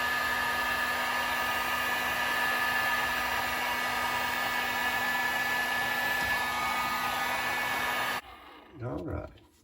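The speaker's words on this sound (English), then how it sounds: "we use our heat gun, directing that heat" Heat gun blowing hot air to shrink tubing over a soldered wire joint on a bass boat aerator pump, a steady loud whoosh and hum that cuts off abruptly near the end, followed by faint handling noise.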